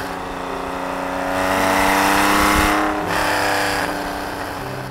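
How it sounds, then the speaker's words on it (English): A 1973 Porsche 911 ST recreation's engine runs loud and close, climbing in a rev around the middle, dipping briefly, then holding a strong steady drone, with no voices over it. "this is my 73 911 ST recreation."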